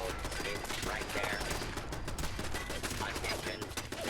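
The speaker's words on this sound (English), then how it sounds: "he just fucking shot him in the head" Gunfire in a video game, with dense rapid shots like a burst of automatic fire running through a busy, noisy game mix.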